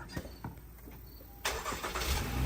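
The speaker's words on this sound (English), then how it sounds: "What we have to do is we have to turn on the car." A Honda Pilot's engine cranks and catches after a few faint clicks and rustles, settling into a close, steady idle.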